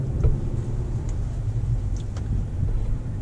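A 2018 Honda Accord 2.0T Touring, a front-wheel-drive family sedan, pulls away with a low, steady engine rumble and road noise, heard from inside the cabin, with a few faint clicks over the hum.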